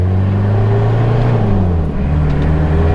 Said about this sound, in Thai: วัดรอบขึ้นความเร็วขึ้นนะครับ